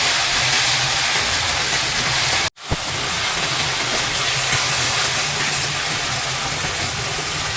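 Liver frying in a pan alongside onion, a loud, steady, broadband sizzle close by that breaks off briefly before resuming.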